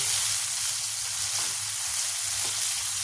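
Mushrooms seasoned with salt cook under a lid in a pan, giving a steady, even sizzle and hiss close by with no pauses or voices.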